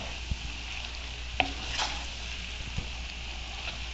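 Pasta with broccoli and calabresa sausage stirred in a frying pan, a soft steady sizzle with a few isolated knocks of the spoon against the pan.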